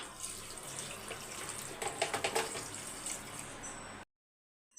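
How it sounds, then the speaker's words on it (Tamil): Water pours from a vessel into a cooking pot of mutton for biryani, a steady splashing stream with a few gurgling bursts, close and moderately loud, stopping abruptly before a brief silence. "மட்டன் முழுகிற அளவுக்கு நான் தண்ணி ஊற்றிருக்கேன்"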